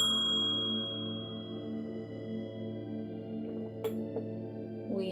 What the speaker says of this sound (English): So we have the Buddha bell,